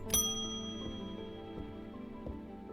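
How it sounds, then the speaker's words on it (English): A single bright bell strike in a video game, ringing clear and then decaying into a long metallic hum under soft, dull thumps. "Ring the bell."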